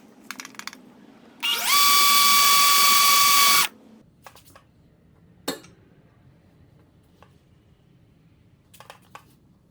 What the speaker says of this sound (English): it is necessary to first drill a small hole in the waste area of the wood